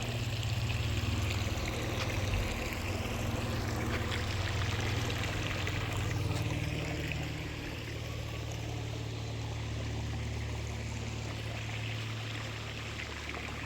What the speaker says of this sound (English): I'm actually in the middle of the stream.